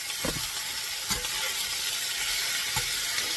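Elk meat browning in a pan, a soft continuous sizzle with a couple of brief scrapes and knocks from a utensil, fairly quiet and close.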